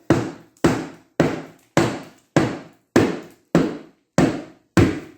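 Hammer working a tire over the rim on a 1948 Ford 8N tractor, heard as nine evenly spaced, loud, sharp blows, each fading quickly, struck alone at a steady rhythm.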